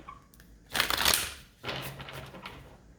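Tarot cards are shuffled close by in two quick riffling bursts with soft shuffling between them, fairly quiet and with no talk over them.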